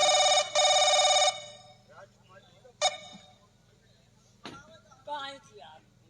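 A telephone rings loudly for about a second in two bursts, then stops as a voice answers and speaks over faint background clicks and a low hum.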